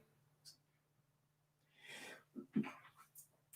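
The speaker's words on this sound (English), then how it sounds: "Excuse me, I had to sneeze a little bit" A quick sharp sneeze bursts out after a short breathy intake, followed by a few faint sounds in an otherwise quiet room.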